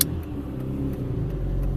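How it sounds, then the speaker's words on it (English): A car engine rumbles steadily and close, its deep drone building slightly as the vehicle accelerates, with no voices over it. "Now let's see how fast this car can accelerate."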